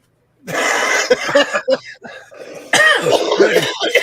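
A person coughs harshly several times in quick bursts, close to the mic, with some throat clearing between the fits.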